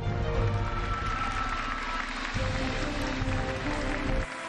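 Audience applause at the Miss República Dominicana 2017 beauty pageant, a dense, loud wash of clapping and crowd noise with music underneath, ending abruptly.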